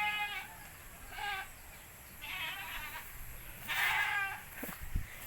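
Several goats in a farm pen bleat repeatedly, near and moderately loud, with calls spaced every second or so over a quiet background and a few brief knocks near the end.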